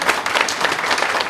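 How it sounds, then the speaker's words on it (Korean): Audience applause at a candidates' policy presentation for a local mayoral election, a dense, steady wash of clapping from a seated crowd filling the whole stretch without a break. "박수 한번 치겠습니다"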